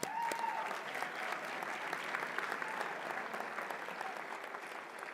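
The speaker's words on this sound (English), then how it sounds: "Please give him a round of applause." A crowd at a high school commencement ceremony claps in sustained, dense applause that carries on steadily from start to finish.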